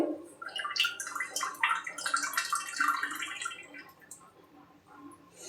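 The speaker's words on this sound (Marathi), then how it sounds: "त्यानंतर गरम पाणी करायला ठेवलेलं ते गरम पाणी त्याच्यामध्ये मी टाकणार आहे." Hot water poured into mutton cooking for a home-style Marathi mutton sukha, making a close, splashy gurgling pour that fades off toward the end, with no talking.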